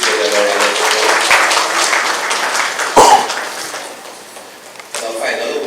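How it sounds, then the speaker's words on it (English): Audience applause at a Ramayan Yagya night award presentation, a broad sustained wash of clapping that fades midway and swells again toward the end. "Please give them a round of applause."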